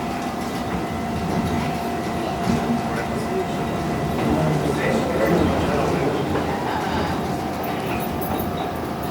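Toronto Transit Commission streetcar 4178 rolls along the old Toronto Suburban Railway line near Meadowvale station, a steady broadband rumble of wheels on rail with a faint whine, continuous and fairly close, with voices talking over it.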